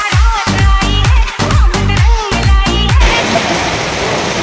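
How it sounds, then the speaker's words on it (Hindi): Heavy rain and strong wind from a storm near a roadside dhaba in Chennai. After a few seconds of louder tonal sounds, it settles into a dense, steady wash of rain. "पीछे में देखो कितना जोर से बारिश हो रहा है मतलब इतना हवा हो रहा है"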